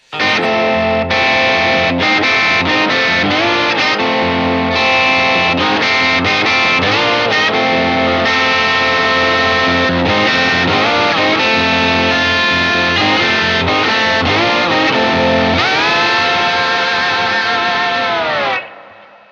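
Slide guitar playing the main riff of a song in F, loud and continuous with gliding slide pitch bends, overdriven tone and echo, a long sliding sweep near the end before it fades.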